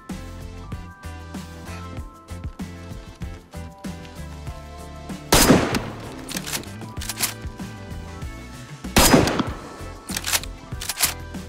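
Gunfire in the DayZ video game: a run of sharp, fairly quiet shots followed by two louder, heavier bursts with short gaps between them.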